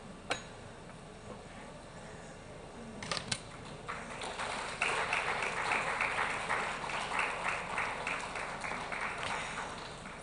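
Audience applause at the Brandedge 2.0 inaugural event, rising from scattered claps into steady, moderately distant clapping over the second half.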